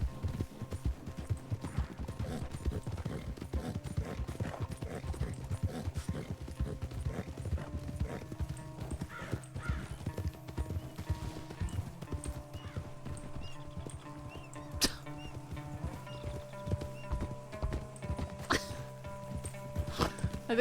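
Horse hooves in the Red Dead video game, a continuous rhythmic clip-clop of a ridden horse at steady pace, moderately close, with a faint tonal background hum and occasional brief clanks.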